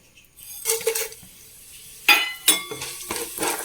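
Whole spices dropped into hot oil for mushroom biryani, with sharp bursts of sizzling and crackling alongside the clink and scrape of a stirring utensil against the pan, close and fairly loud.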